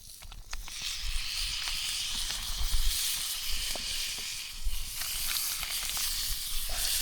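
Steak sizzling in a pan over a campfire while backpacking in Mexico, a steady close hiss and crackle running the whole time with small pops, no talking.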